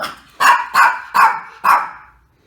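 A dog named Bandit barks four times in a steady rhythm, loud and close, each bark sharp and evenly spaced, with no talking over it.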